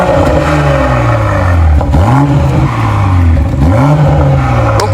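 A BMW X4 M40i, a 2020 SUV coupé, revs its engine loudly and close, with two sharp rising blips over a steady idle.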